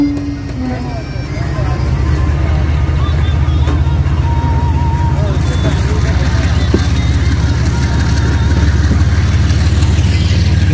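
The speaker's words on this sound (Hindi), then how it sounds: "आप देख सकते हैं GU-40 की एक्सेलरेशन, GU-40 ने स्पीड दे दी है" A GU-40 diesel locomotive hauling the Pakistan Express accelerating, a loud, steady low engine drone that builds and holds over the rumble of the moving train, with voices talking.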